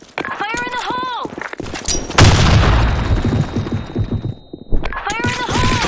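A grenade goes off in the online shooter Blackshot: a sudden loud blast with a long rumbling decay, framed by a voiced game callout just before and after.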